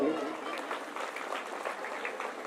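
An audience claps at a Hindi Ramayana recital, dense continuous applause filling the space while a voice carries on over it.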